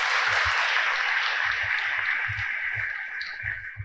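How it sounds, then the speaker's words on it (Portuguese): A church congregation at a patron saint novena gives a round of applause, a steady broad wash of clapping with some low thumps underneath that slowly tapers off. "Salva de palmas para eles."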